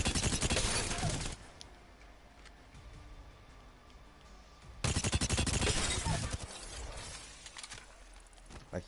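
In Apex Legends, a Havoc energy rifle fires two long sustained bursts of rapid automatic fire, loud and dense, with a quieter gap between them.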